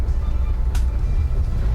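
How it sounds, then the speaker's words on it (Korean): A KTX train pulling into Jeongdongjin station after passing a level crossing between hills, heard as a loud, steady low rumble of running gear with a brief high hiss or squeal partway through. "열차는 산과 산 사이를 지나서 정동진 건널목을 통과하여 드라마 모래시계로 인해 유명해진 정동진역에 도착합니다"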